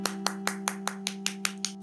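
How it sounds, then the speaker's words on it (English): Nine sharp hand claps in a steady, even rhythm, each one crisp and close, over a constant low electrical hum. "Clap."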